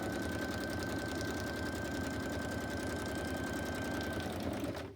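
Close and loud, a sewing machine rattles in one continuous run as it stitches around the edge of a paper envelope for a journal, then stops abruptly.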